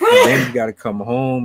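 A single sharp sneeze bursts out close and loud at the start, followed immediately by a person talking.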